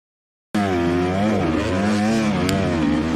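A KTM EXC enduro motorcycle with throttle-body fuel injection rides a muddy trail in Australia, its engine droning loud and near with rising and falling revs after a brief silent start.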